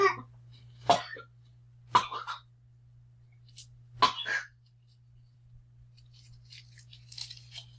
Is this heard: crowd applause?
no